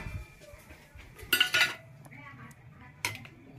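Food goes onto a plate with a couple of clattering clinks of dishes and cutlery, a bright burst of metal-on-plate contact followed by a single later clink, with faint speech around it.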